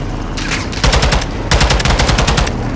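Loud automatic gunfire in Call of Duty: Modern Warfare 2, with two sustained bursts of rapid machine-gun fire over a steady rumbling battle background.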